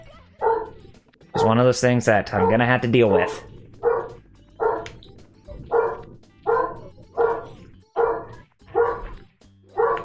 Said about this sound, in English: And I do apologize for the barking on my end. Like I said, those are my dogs